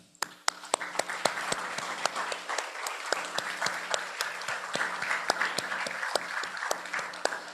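Applause from a university architecture audience greeting a visiting guest speaker, a mix of many soft claps with sharp, distinct individual claps standing out, steady and moderately loud for several seconds without speech.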